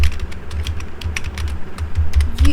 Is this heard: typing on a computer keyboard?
yes